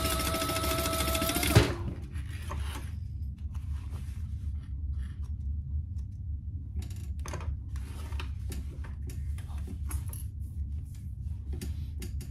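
A sewing machine runs fast at the start while top stitching a seam on an Almendra bag, then stops after about two seconds, leaving quiet handling clicks and light ticks.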